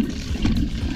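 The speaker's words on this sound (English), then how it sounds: "So here's me pumping river water." A hand-operated filter pump draws river water on the Sacramento River, giving a steady low gurgling and sloshing of water heard close up with no talking.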